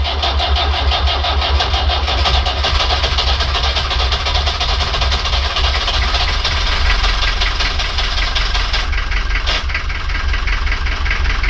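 A Volvo Penta MD21A marine diesel boat engine starts and keeps running, a loud, close, continuous mechanical clatter that stays steady throughout, with a brief dip near the end.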